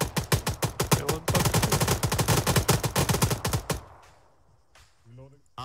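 Sustained automatic gunfire in the military shooter Arma 3, a rapid close burst of shots that stops abruptly, leaving quieter distant noise and a brief voice afterward.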